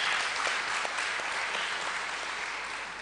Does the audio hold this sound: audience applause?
yes